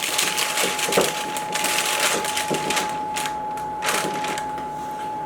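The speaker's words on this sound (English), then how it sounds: "I'm just going to line it with parchment paper." Parchment paper crinkles and rustles close by as it is pressed into a baking tray for survival bars, in a steady stretch of papery crackling with a few sharper crunches and a faint constant electrical hum beneath.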